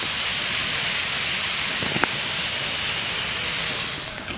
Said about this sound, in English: you can really hear all the steam coming out